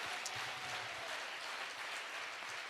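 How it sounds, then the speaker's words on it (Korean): A faint, distant audience applause at a Korean community gathering, a soft even wash of many hands clapping at low level with no speech over it. "Let's give him a round of applause."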